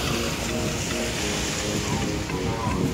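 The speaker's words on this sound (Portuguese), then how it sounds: "Vou parar um pouco aqui para ver esse navio passando." A cargo ship passes along the shore at Santos, its deep engine rumble blending with waves, surf and gusting wind in a dense, continuous wash of sound, fairly loud and without speech.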